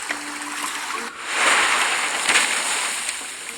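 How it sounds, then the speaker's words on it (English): Water sloshing and splashing around a moving boat, a steady wash of surf with soft swells, fairly loud. "As the boat reaches the shore"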